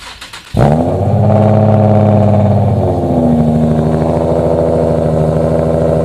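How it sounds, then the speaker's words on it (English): A Nissan 370Z Nismo with long-tube headers, custom X-pipe and short tails cold-starts abruptly and settles into a loud, deep, rumbling idle through a throaty exhaust, steady and close. "Alright, cold start of ISR long tube headers,"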